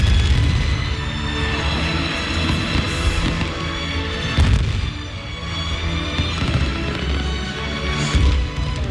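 Fireworks burst over a stadium during Singapore's National Day celebration in 2001, a dense, continuous barrage of booms and crackles with repeated louder blasts, heard alone without speech.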